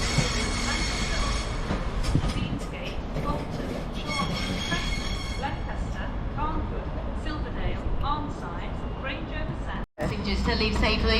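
Passenger train, a CAF-built unit, at Manchester Piccadilly station, heard as continuous loud rolling rail noise with wheel squeal and clatter, a brief dropout near the end, and station voices faintly under it.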